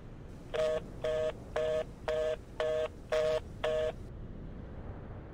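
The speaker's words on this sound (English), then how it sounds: "Let's try to use that phone." Telephone dialing tones from a video game phone, seven evenly spaced keypad beeps in a steady rhythm, clear and close, with no talking.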